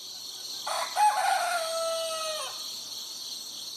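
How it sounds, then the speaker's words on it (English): A rooster lets out one drawn-out crow at moderate distance, rising and then trailing off, over a steady background hum. "These clucking chickens and a big rooster named St. Charles"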